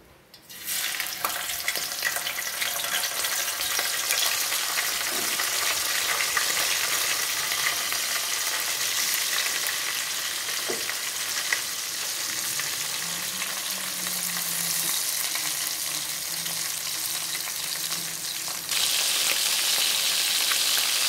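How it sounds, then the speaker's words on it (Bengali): Hilsa fish frying in hot mustard oil in a wok, a loud continuous sizzle and crackle that holds steady throughout, brightening near the end, with no talking. "কড়াইয়ে তেল দিয়ে, সর্ষের তেল দিয়ে, তেলটা গরম হয়ে গেছে। এবার ইলিশ মাছগুলো আমি ভেজে নেব।"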